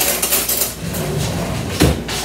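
Spoon clattering against a bowl while mixing seasoned food for a pork roast dinner, with a few clinks and scrapes and one louder knock near the end, close and alone.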